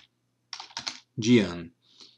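A few quick keystrokes on a computer keyboard come in two short clusters of clicks. A brief voice follows, and a faint tap comes at the end.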